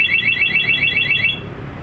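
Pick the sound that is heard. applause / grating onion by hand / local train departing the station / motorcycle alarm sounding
motorcycle alarm sounding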